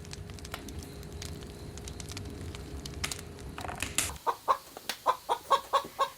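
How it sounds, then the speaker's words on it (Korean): Free-roaming chickens give a rapid series of loud, rhythmic clucks near the end, after a stretch of low crackling background noise. "마음껏 뛰어놀라고 풀어놓은 닭들은 온종일 시끄럽고"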